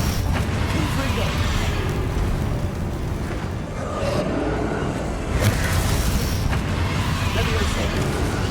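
The Confringo explosive spell from the Hogwarts Legacy video game goes off in repeated booming blasts and crackling bursts amid dense game noise. Voices are heard over the action.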